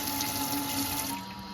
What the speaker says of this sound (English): Pretty substantial for the water coming out of the tap.